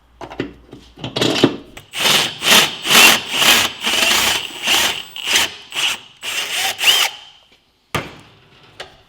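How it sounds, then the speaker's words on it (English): A step drill grinds through a metal bushing in a series of short rhythmic bursts, roughly a dozen strokes close up, then stops with a brief final burst. "We're just going to use a step drill to make it the right size."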